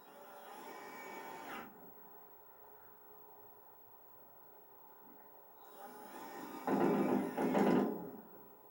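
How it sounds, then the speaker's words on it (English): A power driver sinks 1 1/4 inch screws through top plate connectors on a garden house wall, with two whirring bursts, one short at the start and a louder, longer pair near the end, separated by quiet. "drive 1 1/4 inch screws through the top plate connectors"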